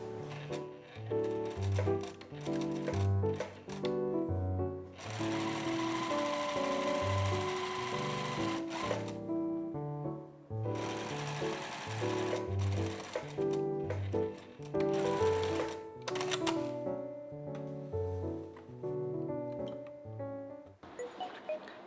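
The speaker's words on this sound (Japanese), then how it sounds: "ポケット口に 5mm のステッチをかけます。" A sewing machine runs steadily while topstitching 5 mm along a skirt pocket opening, with long continuous bursts of stitching broken by short pauses. The sound is close and loud, and no one talks over it.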